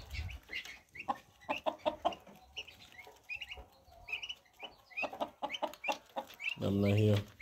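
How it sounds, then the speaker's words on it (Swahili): Young turkey and chicken chicks cheeping around a feeder, high peeps scattered under a person talking, with a louder cluck or call close by near the end. "Kwa vifaranga wa kuku nao kama unavyoona, wameshaona chakula hiki hapa, wanakisogelea kama unavyoona"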